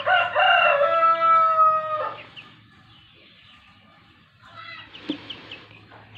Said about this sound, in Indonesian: Ini ayam saya ngorok sudah baru kemarin.